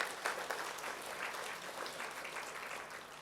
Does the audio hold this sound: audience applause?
yes